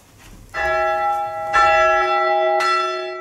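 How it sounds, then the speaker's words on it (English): Three church bell strikes in a slow sequence, the bells chimed while hanging downwards and kept still, each ringing clear and sustained with long overlapping hum, close and loud. "we first chime the bells to get a clean recording of them while they are hanging downwards"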